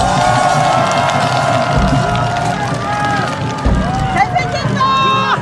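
A crowd at a political rally in Busan claps and cheers loudly for a party leader, a thick, continuous roar of applause and shouts with a speaker's amplified voice riding on top.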